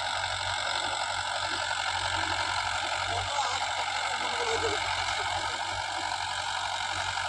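A Mahindra Yuvo 575 tractor engine runs steadily while ploughing a dusty field, a continuous loud mechanical hum with bright whining overtones, and voices talk faintly at times.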